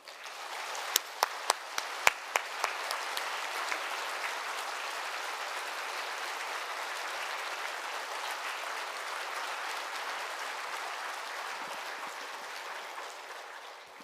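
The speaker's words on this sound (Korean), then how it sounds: "우리 박수로 다 같이 환영하도록 하겠습니다" A church congregation at an autumn revival service applauds to welcome the pastor, a few sharp separate claps first and then a steady, even wash of applause that holds for the whole stretch at moderate distance.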